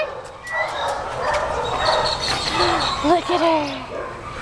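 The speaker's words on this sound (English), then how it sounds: "There's a dog in the next run and she wants to play with it." A dog in a shelter kennel run yips and whimpers excitedly toward a dog in the next run, giving short barks and whines over steady kennel noise while someone talks nearby.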